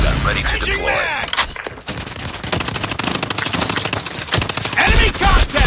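Rapid automatic gunfire in a Call of Duty Frontline match, dense bursts of close, loud shots crackling over one another, dropping briefly and then resuming with heavier fire near the end.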